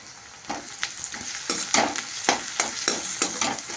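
Onion frying in a pan with salt and garlic sizzles steadily, broken by repeated loud stirring scrapes in an uneven rhythm, close and clear with no talking.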